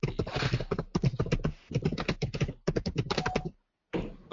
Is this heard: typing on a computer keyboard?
yes